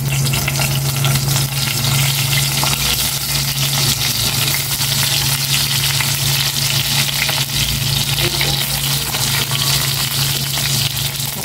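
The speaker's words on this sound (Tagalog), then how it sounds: "Prito din ako ng konting talong." Eggplant frying in a pan gives a steady, loud sizzle with an even crackling texture that runs the whole time, alongside a low constant hum, with no talking.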